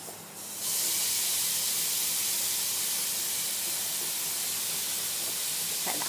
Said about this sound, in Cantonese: 咁而家個鑊應該預熱得差唔多啦，咁我哋可以放銀鱈魚落去啦。